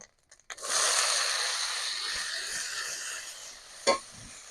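Cabbage hitting hot oil already fried with cumin, five-spice seeds and crushed ginger, setting off a loud steady hiss that runs on, with a sharp clatter near the end.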